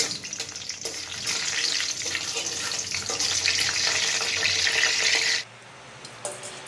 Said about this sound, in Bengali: এখানে আমি তেজপাতা, এলাচ এবং লবঙ্গগুলো দিয়ে দিব এবং এগুলো থেকে সুন্দর একটা গন্ধ বের হওয়া পর্যন্ত এগুলো একটু তেলে ভাজতে থাকবো।